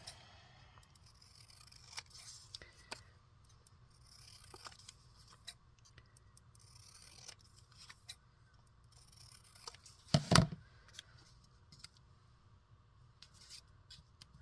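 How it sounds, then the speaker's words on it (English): Scissors cutting a small paper initial letter from a book page for a craft project, quiet intermittent snips with soft handling noises and one louder clunk. "Let's cut that down with some scissors."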